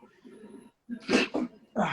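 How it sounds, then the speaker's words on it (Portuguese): A person sneezes, with a short breathy intake followed by sharp bursts of sneezing, close and loud. "precisei espirrar"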